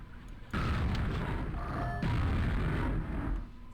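A grenade explodes in a modded video game (Spawn Gibbing mod), a loud, broad booming blast that rumbles on steadily for a few seconds before easing off.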